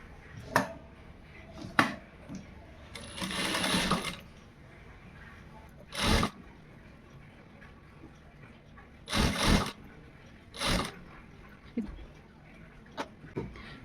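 A sewing machine stitches along a half-inch folded fabric edge while piping a garment. It runs in several short, quiet bursts separated by pauses, with faint handling noises between them.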